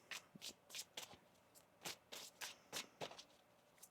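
Tarot cards being shuffled by hand, a series of soft, irregular slaps and swishes, close and quiet, with no talking.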